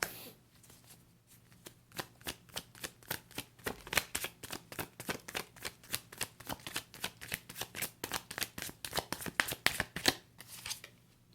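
Tarot cards are shuffled and flipped from the deck in quick, regular close-up slaps and riffles, about two or three per second. The sound is crisp but fairly quiet and runs for over ten seconds without pause.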